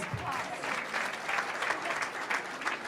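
An audience at a Diwali program at the Shree Ram Kabir Mandir applauds community volunteers and trustees, with steady clapping from a moderate crowd that carries on for a few seconds with a brief voice near the start.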